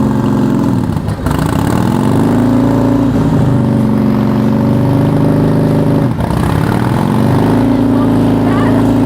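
A Harley-Davidson motorcycle revving and accelerating through gears, a loud, close, rumbling engine whose pitch climbs, drops briefly at each shift, then climbs again.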